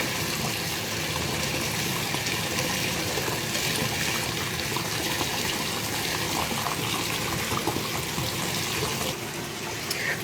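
Water pours steadily and continuously into a bathtub holding a dissolving bubble bar, a constant splashing rush that stays loud and close the whole time.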